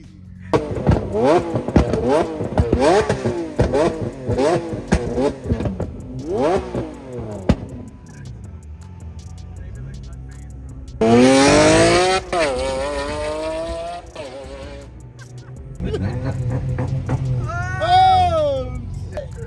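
Flame-spitting tuned cars, a Veilside RX7, a Lamborghini and a GTR, rev hard in repeated sharp bursts with popping backfires, then a long rising roar and more revving later, with people talking and exclaiming nearby.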